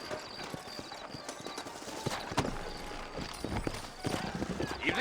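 Horse hooves clip-clopping at a steady walk in Red Dead Redemption, with an occasional snort or whinny, under a voice talking about sturdy horses and ambient outdoor game sound.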